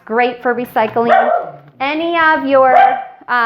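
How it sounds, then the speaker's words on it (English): A dog barks and yips repeatedly in short bursts at home, loud and close, overlapping a person speaking throughout. "Sorry about my dog barking in the background."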